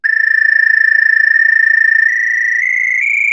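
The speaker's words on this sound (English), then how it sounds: "very, very basic sustain. Just a really fast moving sine wave." A plain synth sustain made from a fast-moving sine wave holds as a bright, pure, steady tone that steps upward in pitch a few times, with a faint rapid flutter and no other sounds.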